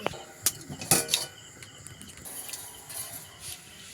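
A metal lid clanks onto a pot of rasmalai simmering on low heat, a couple of sharp close clatters followed by a soft steady hiss of boiling beneath.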